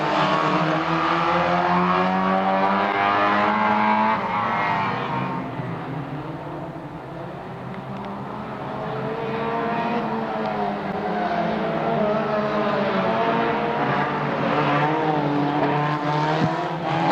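Standard 1400cc formula race cars circuit racing in a close pack at a motorsport event, engines droning loudly and continuously with rising and falling revs as they pass, no talk.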